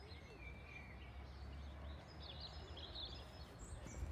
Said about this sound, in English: I like the birds singing.